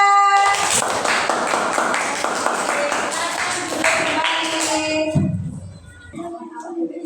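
In a classroom, a group claps together in a steady rhythmic pattern for group 1, with children's voices chanting along. The clapping stops after about five seconds, and a voice speaks over the quieter room.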